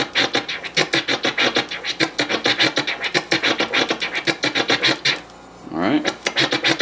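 Slower turntable scratching of a snare sample, with rhythmic back-and-forth strokes that sound as distinct raspy pulses, loud and close, broken by a brief pitch-sweeping pull near the end.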